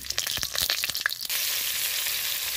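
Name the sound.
potatoes frying in oil with salt and turmeric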